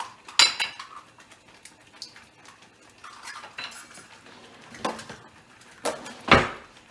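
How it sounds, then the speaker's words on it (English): A fork scrapes and clinks against a pot while eggs are scrambled into thick pastina, producing scattered metallic taps and scrapes, with several louder knocks spread across quiet gaps. "I'm going to scramble it in with the fork."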